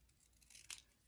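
Scissors trimming a paper film strip tag: a couple of soft, close snips, the last one sharp and crisp, in an otherwise quiet room.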